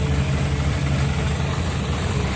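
A Caterpillar CAT320C excavator with a red cylinder idles steadily on a large earthmoving site, its heavy low engine drone continuous and close with no speech over it.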